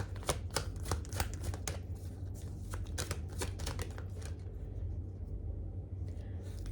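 Tarot cards being shuffled and drawn, a rapid run of crisp riffling flicks that thins out into occasional soft card sounds over a low steady hum.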